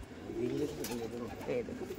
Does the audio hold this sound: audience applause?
no